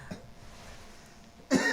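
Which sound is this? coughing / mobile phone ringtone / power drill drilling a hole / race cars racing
coughing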